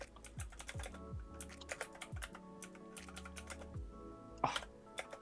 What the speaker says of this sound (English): my keyboard's probably clacking so loud on stream